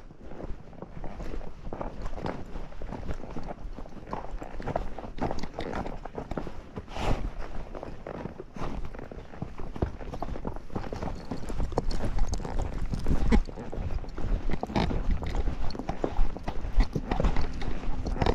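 A Tennessee Walking Horse walks along with steady, close hoof clip-clops in an even rhythm over quiet outdoor background, continuing throughout.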